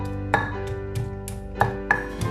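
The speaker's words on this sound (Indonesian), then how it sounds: "kalau kunyit itu ditumbuk seperti ini" Turmeric root being pounded in a kitchen for a milkfish marinade spice paste: a handful of sharp, close thuds at an irregular rhythm, with no talking.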